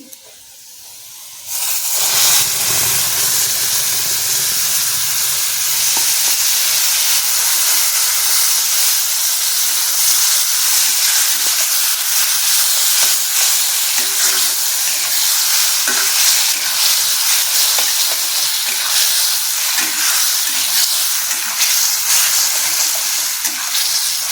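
Ground spice paste for ghugni hitting a hot pan, a loud, steady sizzle and hiss with stirring scrapes that keeps going without a break, close up and alone.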